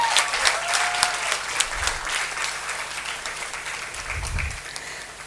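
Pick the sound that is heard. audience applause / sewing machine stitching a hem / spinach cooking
audience applause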